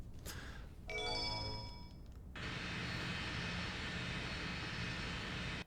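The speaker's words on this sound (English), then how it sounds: "everyone's favorite biplane noise is back" A biplane engine from Sonic Adventure drones in a loud, steady roar after a brief tonal chime, the sustained engine hum filling the rest of the stretch with no voices.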